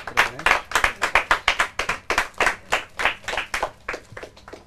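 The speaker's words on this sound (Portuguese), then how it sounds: "Palmas." An audience at a prize-giving claps in a sparse, uneven patter of distinct hand claps that gradually thins and softens toward the end.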